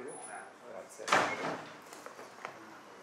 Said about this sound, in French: Ok, fermez la porte.